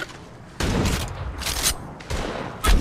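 Gunfire in the video game Apex Legends comes in three loud, close bursts of shots with short gaps between, crisp and heavy over a low game background.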